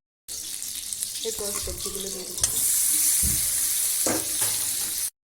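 Vegetables going into hot spiced oil in a pan for an aloo gobi capsicum curry, with a steady, close sizzle and frying hiss that swells louder partway through, plus a few stirring clatters and no speech.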